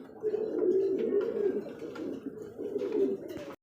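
White Brahma pigeons coo in a steady, throaty rolling murmur, close and continuous, with a few faint chirps mixed in.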